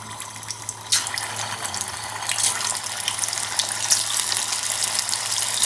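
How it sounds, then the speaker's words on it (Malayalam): Prawns dropped into hot oil in a pan for deep frying, giving a steady close hiss and sizzle that grows louder and fuller with crackling bursts as more go in. "ഇനി അതിലേക്ക് നമുക്ക് ഓരോ പ്രോൺസ് ആയിട്ട് ഇട്ട് കൊടുക്കാം."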